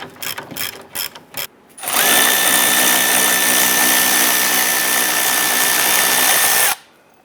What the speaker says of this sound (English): Go ahead and spin that nut and get that off.